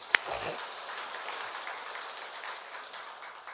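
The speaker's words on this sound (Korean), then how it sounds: "박수 한번 해주세요" A church congregation gives faint, scattered applause that carries on steadily through the clip. A single sharp click can be heard near the start.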